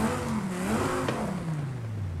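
A video game car engine fitted with stock cams and valves revs up and falls back in a smooth, continuous pitch sweep, loud and close with no talking.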